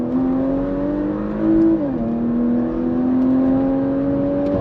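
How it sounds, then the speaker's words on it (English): A 2022 Porsche Macan GTS SUV accelerates hard with a steady rising engine drone, its 7-speed PDK gearbox making a quick shift partway through before the note climbs again, loud and continuous from inside the car. "Nice shifts from that 7-speed PDK, doing the business."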